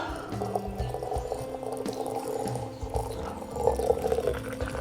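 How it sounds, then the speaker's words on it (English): Hot water poured into the reservoir of an EasiYo yoghurt maker, a steady close liquid pour and trickle with bubbling texture running throughout, no talk over it. "I'm just pouring in the hot water, and it just goes into the reservoir only and doesn't come up"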